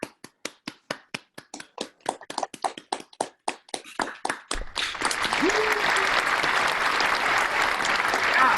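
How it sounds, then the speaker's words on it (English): A small audience at an opening performance lab claps for the performers, first in a slow rhythmic unison beat and then in a dense wash of applause, with a brief voice calling out over it. "Let's give them a round of applause."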